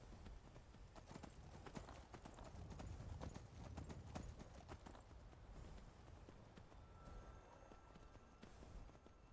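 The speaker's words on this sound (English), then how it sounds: "Is that a horse?" A horse in the video game The Elder Scrolls V: Skyrim trotting at a steady pace, with rhythmic clip-clopping hoofbeats that continue without pause.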